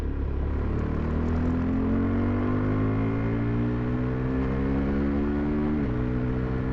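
A 2023 KTM 390 Adventure single-cylinder motorcycle pulls hard in third gear, its engine note climbing steadily in pitch under a steady roar of wind, with a brief dip near the end.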